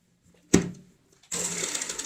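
A sewing machine stitches along a zip on a round cushion cover: a sharp single clunk, a brief silence, then a steady, quiet run of rapid stitching close by.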